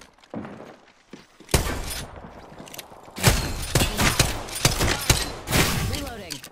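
A 30-30 rifle fires in the video game Apex Legends, with several sharp, loud shots spaced a second or so apart and a burst of clattering impacts and breaking sounds. A player's voice cuts in now and then.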